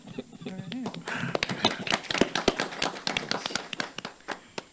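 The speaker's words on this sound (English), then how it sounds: "I move that we accept this item and give them a round of applause." A round of applause at a committee meeting on accountability, finance and personnel: after brief talk, a small group claps in quick, uneven bursts for a few seconds.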